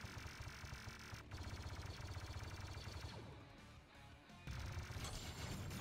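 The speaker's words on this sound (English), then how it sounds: "You can like spray your guns and you can kill Patty like crazy too" Rapid automatic gunfire from weapons in the Roblox game Battle of Kashyyyk, dense bursts of shots running nearly the whole time with a short lull, loud and continuous.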